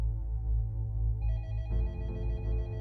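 A telephone rings with an electronic trilling bell tone, steady and loud, repeating pulses with no talking.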